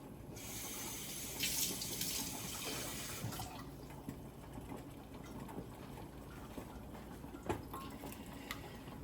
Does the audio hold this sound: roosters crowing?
no